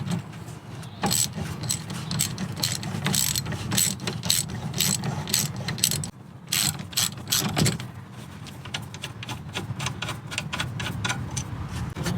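A ratchet loosening the brake caliper bolts on a Honda CR-V, with rapid clicking bursts of the pawl in repeated runs, close and loud, and brief pauses between strokes.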